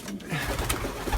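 A pigeon hen coos once or twice in a short, low, fairly close burst over steady outdoor background noise.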